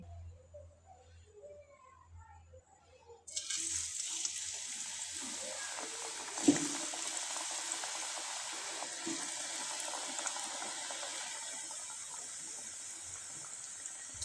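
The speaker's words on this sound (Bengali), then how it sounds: "এই পিঠাগুলো আমি কয়েকটা আপনাদের ভেজে দেখিয়ে দিচ্ছি" Semolina pitha cakes dropped into hot oil: after a quiet start, a sudden sizzling hiss bursts in and settles into steady frying with soft bubbling crackles.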